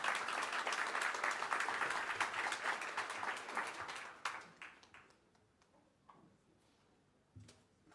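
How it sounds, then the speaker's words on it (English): Audience applause at an economic club event in Miami, dense clapping that holds steady for about four seconds, then thins into scattered claps and fades to near quiet, with one last brief clap near the end. "If you could please give her a round of applause."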